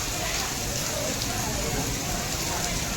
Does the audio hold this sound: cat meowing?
no